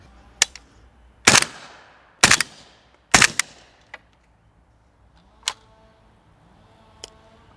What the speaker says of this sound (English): So the first subs that I have here are the 200 grain MagTech Subsonic 300 blacks.